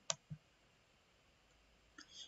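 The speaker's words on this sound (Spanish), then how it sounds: "Voy a dar clic aquí en detener grabación." A mouse click stopping a Microsoft Teams meeting recording: a couple of soft, close clicks at the start, then near silence, with faint noise at the end.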